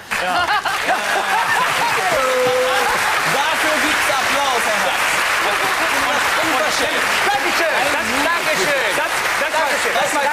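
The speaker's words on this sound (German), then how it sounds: "Dafür gibt's Applaus." Studio audience on the German comedy panel show Genial daneben, 2004, applauding loudly and steadily throughout, with voices and chuckles mixed in over the clapping.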